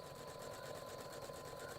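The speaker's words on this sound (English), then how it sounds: "The hum of a vintage Singer sewing machine" A vintage Singer sewing machine hums steadily and evenly in a Paris atelier with ornate ironwork balconies, a constant mechanical drone that stays at a moderate level throughout.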